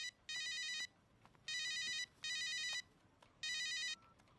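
A telephone rings in four bright electronic bursts with short gaps between them, fairly quiet against a faint room background.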